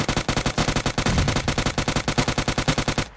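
Machine gun fire in PUBG rattles out in a long, rapid burst of about twenty-five evenly spaced shots, loud and close, then cuts off abruptly at the end.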